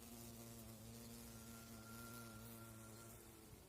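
A carpenter bee (Xylocopa valga) buzzes close by while working clary sage flowers, giving a steady, loud droning hum that holds through nearly four seconds.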